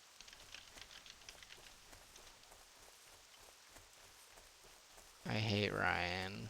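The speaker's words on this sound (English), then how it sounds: "That meant to be rain." Rain falls in the World of Warcraft game world as a soft, steady patter. Near the end a voice talks loudly over it.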